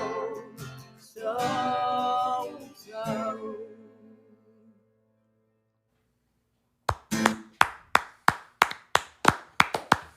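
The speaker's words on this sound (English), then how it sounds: "Those are people clapping." A live crowd bursts into clapping after a stretch of singing, with sharp, loud, evenly spaced claps close up that ring out alone at the end.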